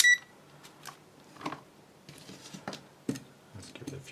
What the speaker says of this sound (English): it beeps every time you change the dial